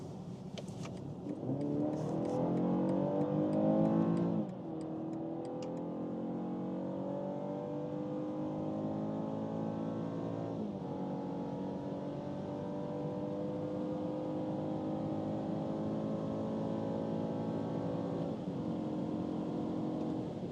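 A BMW 4-Series coupe in sport mode accelerating hard from 50 to 180 km/h, engine note climbing steadily through several upshifts with brief dips between gears, heard from inside the cabin with no talk.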